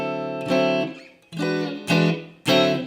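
A guitar strums a ninth chord in a blues context: four separate strums, each ringing briefly with bright harmonics before the next, close and clear with no talk.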